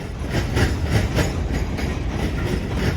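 A freight train rumbles steadily past close by in Cordele, Georgia, with a rhythmic clatter of wheels over rail joints under a constant low roar.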